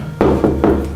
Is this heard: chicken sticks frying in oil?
no